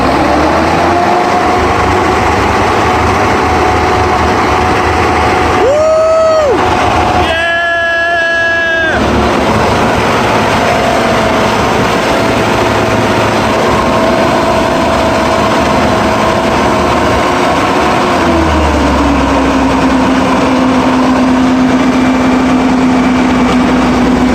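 An old Clark forklift engine running after a cold start with a flooded carburetor, a loud, continuous close-up idle with a brief higher revving surge partway through and a lower settled drone near the end.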